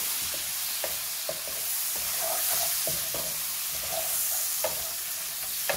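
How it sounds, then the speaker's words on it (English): Prawns fry in a pan with cooked spices, a steady moderate sizzle overlaid by intermittent clicks and scrapes of a utensil stirring them. "I'm going to add in the prawns. Just let them brown."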